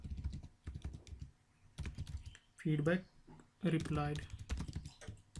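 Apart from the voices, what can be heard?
computer keyboard typing code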